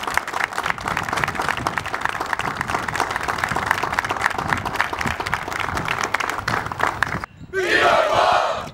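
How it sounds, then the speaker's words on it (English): An award ceremony crowd applauds ribbon-wearing winners with steady, dense clapping for about seven seconds, then cheers and shouts swell loudly near the end. "help me in applauding the ones who do"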